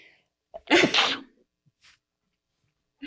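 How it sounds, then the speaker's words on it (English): A single loud sneeze bursts out up close, followed by a couple of faint small sounds in an otherwise quiet room. "And I'm going to sneeze."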